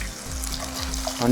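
Ginger garlic paste sizzles and hisses in a preheated handi pot, a steady broadband frying noise with a faint low hum underneath that swells slightly at the end.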